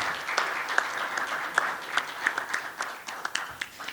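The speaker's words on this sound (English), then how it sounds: "Please give a round of applause." Applause from a conference audience, a steady patter of many hands clapping with a few sharper claps standing out, fading slightly toward the end.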